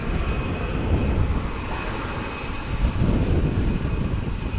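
Airliners taxiing and holding in a line at Dallas/Fort Worth International Airport, a steady broadband engine roar that stays loud and even throughout with a slight swell near the end, no talk.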